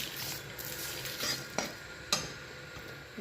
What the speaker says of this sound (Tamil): நான் எண்ணெய் ஊற்றாமையே தான் ட்ரையாக தான் இங்கே ஃப்ரை பண்ணிகிட்ருக்கேன்